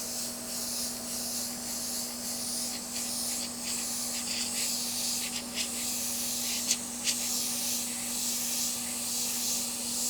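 An airbrush sprays paint onto wood with a soft, continuous hiss over a steady low hum, broken by a few faint clicks and brief bursts.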